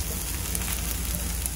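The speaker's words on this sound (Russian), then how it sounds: "Короче, пока жарится мясо" Steady, crackling sizzle of fatty meat frying in a hot pan, close and continuous with no pauses.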